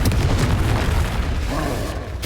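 A Confringo blasting curse detonates in the Hogwarts Legacy video game: a dense, continuous rumbling boom with crackling burst texture, loud and sustained throughout, ending in a brief cutoff.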